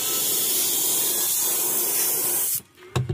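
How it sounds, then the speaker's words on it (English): An airbrush sprays paint onto a fishing lure being finished in a smallmouth bass pattern, giving a steady, close, even hiss that runs unbroken before cutting off near the end. "I really like this airbrush. It sprays really, really good."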